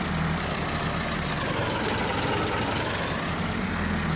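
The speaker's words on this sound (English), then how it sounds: "her tractor, quiet compared to Merrick's" A tractor engine idles steadily in Farming Simulator 22 on an old Polish farm, a dense low diesel rumble running unbroken and loud throughout with no voices over it.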